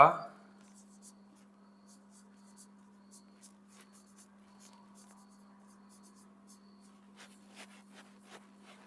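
Pen writing words by hand on paper, faint scratchy strokes in quick irregular bursts over a steady low hum, close and quiet, growing busier toward the end.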